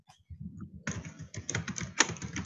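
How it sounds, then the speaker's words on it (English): Loud typing on a computer keyboard: rapid, uneven bursts of close, sharp key clicks in quick clusters, with a few heavier strokes standing out. "That's really loud typing, AD."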